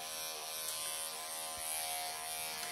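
Electric clippers buzz steadily and close up while shearing the dry, cotton-wool coat of a Persian Chinchilla cat, a continuous motor whine with slight shifts in pitch.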